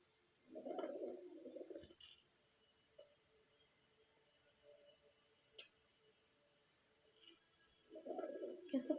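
Pigeons coo in two soft, warbling bursts, one near the start and one at the end, with faint ticks and quiet stillness between them.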